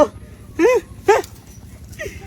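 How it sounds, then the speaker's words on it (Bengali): A dog on a street gives three short, close barks and yelps, evenly spaced against a quiet background. "এটা কুত্তা"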